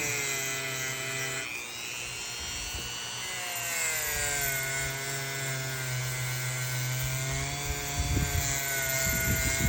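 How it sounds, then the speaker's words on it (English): Dremel rotary tool fitted with a steel wire brush buffing surface rust off vintage Kent blades, a steady high-pitched motor whine with scratchy grinding, near and continuous with slight pitch shifts as pressure changes. "we're gonna start off with the Dremel and the steel brush, and we just want to go over the blades lightly"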